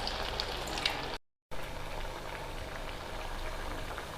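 Onion bajji sizzling in hot oil over a medium flame, a steady crackling, bubbling hiss throughout, broken by one brief silent gap.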